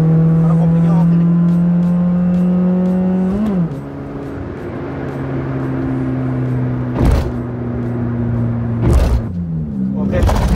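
Engine of a 2018 Honda Brio Satya 1.2 manual revs up loudly from a standstill, pitch climbing steadily, dipping briefly at a gear change, then pulling again, with brief louder bursts near the end; someone talks over it.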